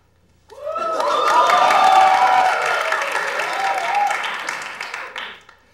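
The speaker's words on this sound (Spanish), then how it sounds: "Señores, un aplauso a Antonio Deli" A studio audience at an interview show breaks into applause and some cheering as a guest is introduced, a loud burst that swells quickly, holds, then tapers off after about five seconds.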